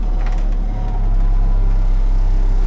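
A front end loader garbage truck on a commercial route cruising with no throttle, giving a loud, steady low engine drone with a slight dip partway before settling again.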